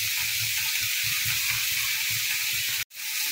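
Ground lentil paste goes into a hot pan and is stirred, giving a steady close sizzle with soft rhythmic scraping beneath, which cuts off abruptly near the end and then resumes.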